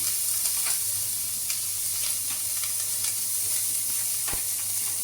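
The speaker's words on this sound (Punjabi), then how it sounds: "ਜਿਵੇਂ ਹੀ ਰਾਈ ਦੇ ਵਿੱਚ ਦੇਖੋ ਇਹਦੀ ਆਵਾਜ਼ ਆਉਣੀ ਸ਼ੁਰੂ ਹੋ ਜੂ ਤੇ ਆਪਸ ਵਿੱਚ ਜੰਪਿੰਗ ਕਰਨੀ ਸਟਾਰਟ ਕਰ ਦੇਣਗੇ" Mustard seeds in hot oil, a constant bright sizzle with scattered small pops and crackles, one sharper pop near the end, no voices.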